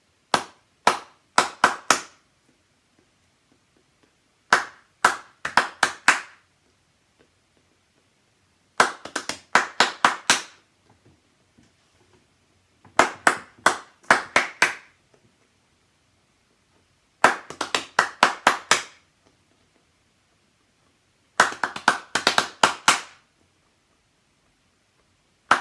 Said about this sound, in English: So I'm going to clap a rhythm, and then I'd like you to clap it back to me.